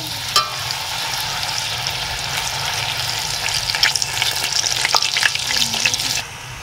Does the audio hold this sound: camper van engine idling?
no